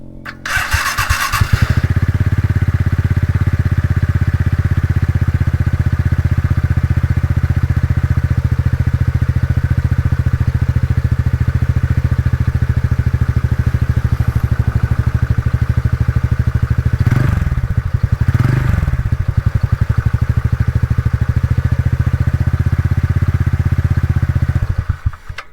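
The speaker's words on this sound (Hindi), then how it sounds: "एग्जॉस्ट नोट सुना देता हूँ।" A TVS Ntorq Race XP scooter with about 18,000 km on it starts up and settles into a steady, close exhaust idle, then is blipped twice in quick succession near the end before the engine cuts off.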